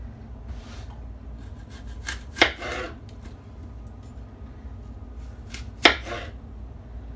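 A knife slices through fresh apples in a few sharp, close cuts. Quieter rubbing and scraping fill the gaps between them, and nobody speaks.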